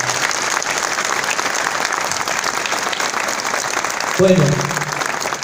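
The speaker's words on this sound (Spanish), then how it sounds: "Fuerte aplauso para ustedes." A crowd at a gathering at the San Expedito shrine in Bermejo, Caucete, San Juan, claps in loud, sustained applause throughout, and a voice speaks briefly near the end.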